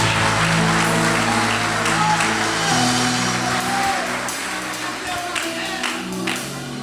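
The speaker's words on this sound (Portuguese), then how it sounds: "Se é para Jesus, você pode aplaudir mais forte" A church congregation claps loudly and continuously during a Brazilian evangelical service, a dense, sustained wash of applause with an organ or keyboard chord sounding beneath it.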